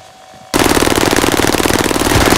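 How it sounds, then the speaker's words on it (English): Sustained automatic machine gun fire in the Call of Duty: Modern Warfare video game, bursting in abruptly after a brief quiet lull and continuing as a loud, dense, rapid rattle with no pause. "Receiving hostile fire."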